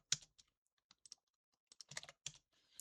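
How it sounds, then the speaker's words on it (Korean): Keyboard typing in sparse bursts of clicky keystrokes, a few isolated taps followed by a quicker cluster, close and fairly quiet with no talking. "자, 빗소리, 키보드 타건음 이렇게 해가지고 넣어보겠습니다."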